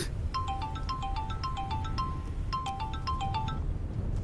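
Mobile phone ringtone playing a bright repeating electronic melody in two phrases, moderately loud over a low steady rumble of background noise, with no voices.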